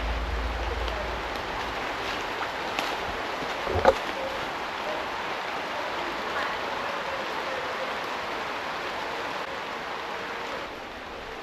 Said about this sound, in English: Rain's properly coming down.